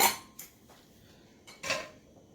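Metal pressure cooker lid being handled and opened after the steam has been released while cooking chicken and dal for sambar; a few sharp clanks and clinks of metal on metal, with quiet gaps between them.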